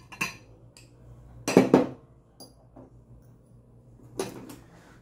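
A ceramic teapot's lid and tea infuser are lifted and set down, giving a few separate close clinks and knocks of pottery and metal with quiet pauses between them.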